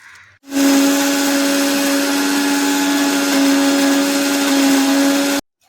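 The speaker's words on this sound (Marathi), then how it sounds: "आणि मिक्सरमधून वाटून काढायचं." A kitchen mixer grinder whirs loudly and steadily for about five seconds, grinding a raw mango chutney with salt and a little sugar, starting and stopping abruptly with no talking.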